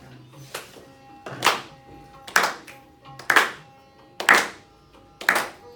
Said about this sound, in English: Would you all clap with me?